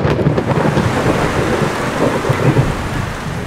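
Rolling thunder and steady rain rumble together in a dense, continuous storm wash, loud and close with low booming swells throughout and no voices.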